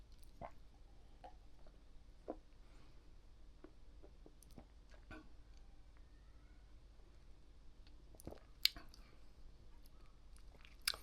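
Sticky, thick peanut-flavoured food is chewed close up, giving soft wet clicks and squishy mouth sounds at an irregular pace over a quiet background, with no talking.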